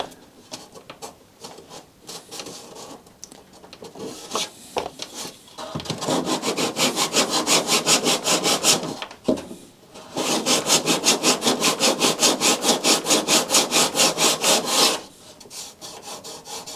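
Rapid, rhythmic rasping of sandpaper rubbed back and forth on the wood of a crashed Extreme Flight Laser EXP v2 model plane under repair, close up, in two long steady runs separated by brief pauses.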